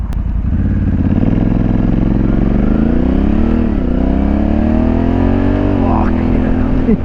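Honda Africa Twin DCT CRF1100L motorcycle engine droning steadily under way at speed, pitch rising then dipping as gears change, with constant wind rush and a rider speaking over it.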